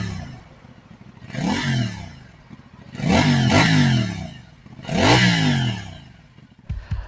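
A CFMOTO 450NK motorcycle with a 270-degree crank, revved three times. Each rev climbs sharply in pitch and then drops back to a lumpy idle. The engine is close and loud, and a short burst follows at the end.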